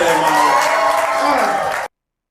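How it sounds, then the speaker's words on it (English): Audience applause and cheering fill the room after a performance at a Caribbean community event, a dense, steady wash of clapping and crowd noise for almost two seconds before cutting off abruptly. "Give another round of applause for them"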